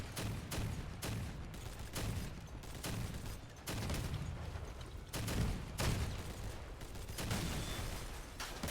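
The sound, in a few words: cannon fire from pirate ship in Crossout video game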